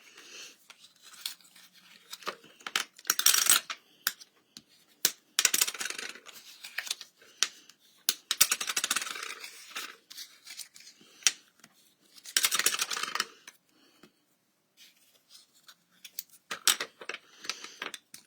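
Card stock being folded by hand for a Z-fold pop-up card, heard as close crisp crackles, creases and paper scrapes in irregular bursts with quiet gaps, no voice.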